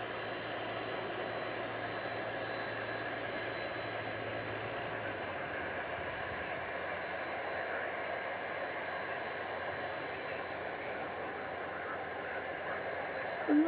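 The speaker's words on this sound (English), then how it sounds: "Lufthansa cargo coming in from Mexico City." A Lufthansa Cargo Boeing 777 arriving at DFW after dark from Mexico City gives a faint, distant, steady jet hum with a thin high whine, a low rumble fading partway through, then a brief bump at the end.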